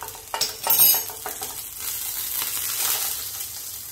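Butter sizzling and crackling in a pan for salmon scrambled eggs, a steady close frying hiss with a few clatters near the start, alone without voices.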